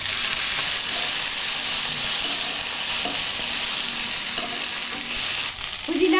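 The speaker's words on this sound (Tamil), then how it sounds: "மல்லி கருவேப்பிலை எல்லாமே நல்லா வதங்கிடுச்சு" Coriander and curry leaves frying in a pan for chutney: a loud, steady close-up sizzle with a dense crackling hiss throughout, a few faint stirring taps underneath, easing slightly at the end.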